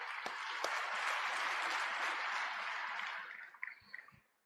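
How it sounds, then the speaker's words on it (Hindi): Audience applause at a poetry event in Mumbai, a dense sustained burst of many hands clapping that fades into a few scattered claps near the end, with no talk. "मैं चाहता हूं एक बार आप तालियां बजाएं"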